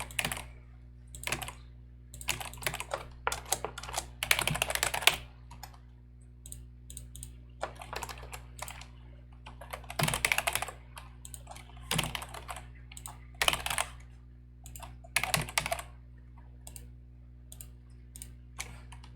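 Login details being typed on a computer keyboard, bursts of close, crisp key clicks separated by short pauses across the whole stretch, over a faint steady hum with no talking.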